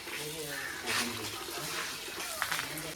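Meat is rinsed in water three times while cooking with friends, giving soft sloshing and splashing beneath ongoing conversation, with a quick splatter near the end.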